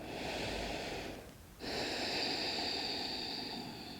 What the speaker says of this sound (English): Apologies if you hear my heavy breathing due to the microphone.